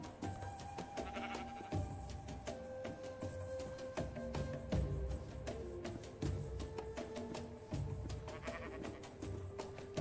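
Repeated sheep bleats, several close together, over steady game background music and sound effects in Minecraft with the Better Than Wolves mod.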